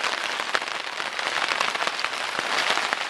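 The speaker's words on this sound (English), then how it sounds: "It's still raining." Steady rain pours down at a KOA campground, a dense, continuous hiss of drops hitting surfaces with scattered sharper patters, loud and close with no voices.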